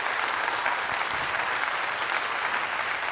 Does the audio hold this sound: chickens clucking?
no